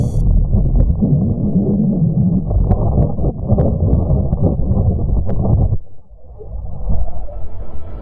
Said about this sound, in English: That was the sound of the Earth's magnetic field as recorded by the Italian Spring Accelerometer on